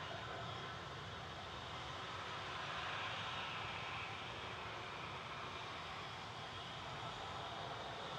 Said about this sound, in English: Another A321 Neo going next to Istanbul.